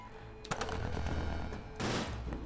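Burst weapon firing in the Cryptark video game: two sharp rapid-fire volleys of synthetic gunshots, one near the start and a second, longer burst toward the end, loud and close with no talking.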